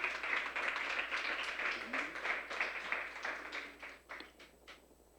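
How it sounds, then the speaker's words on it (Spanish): A church congregation claps during a sermon, a moderate burst of applause that thins out into a few scattered claps near the end. "Denle un aplauso al Señor en esta hora."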